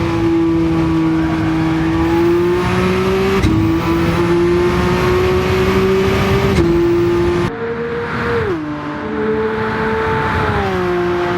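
A Lamborghini Countach QVX race car runs flat out on the Nürburgring Nordschleife toward the Döttinger straight, its engine a loud, sustained high-rev howl from inside, with gear changes and a brief lift as it enters corners.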